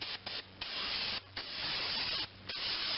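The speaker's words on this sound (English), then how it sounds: "throw on a dust mask and go over the brake parts cleaner" Brake parts cleaner sprayed from an aerosol can onto the front brakes of a 2005–2010 Chevrolet Cobalt or Pontiac G5, loud close hissing blasts in several long bursts separated by brief pauses.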